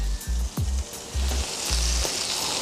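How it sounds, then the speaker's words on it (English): Burger buns toasting on a flat griddle beside melting cheese on beef patties, a steady close sizzle with a few brief scraping bumps and low thuds, no talking. "we're gonna toast these while that cheese is melting"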